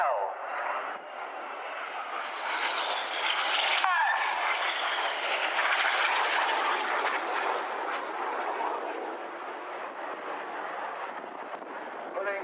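Red Arrows jets flying a display carousel of tight 6G turns, a loud continuous roaring jet wash that swells and sweeps across the sky, with a commentator talking over it throughout.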